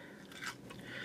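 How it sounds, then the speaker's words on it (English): A bite into crunchy Shake Shack fries, a brief close crisp crunch lasting about a second, with no talking. "So crunchy on the outside,"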